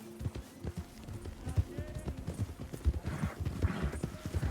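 Horse hooves clip-clopping in the Red Dead roleplay video game, a fast irregular trot of several horses close by under ambient game sound, with faint voices in the background.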